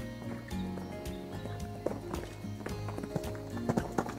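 A horse canters on the left lead in a show-jumping lesson, its hooves beating a rolling three-beat clip-clop at close range, with a few sharper footfalls and faint voices and breathing mixed in.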